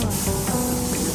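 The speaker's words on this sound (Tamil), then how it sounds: "பாருங்க இப்போ ஸ்ப்ரே பெயிண்ட் பண்ணுறாருங்க." Airbrush spray painting a Ganesha idol in an idol-making workshop, a close, steady hiss of spraying air and paint with faint mechanical hum beneath.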